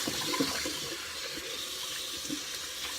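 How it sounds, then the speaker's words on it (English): Hot tap water runs into a sink to soak a cloth, a steady, fairly quiet splashing and trickling stream with a few soft gurgles, heard alone. "now I've got my cloth super wet in super hot water"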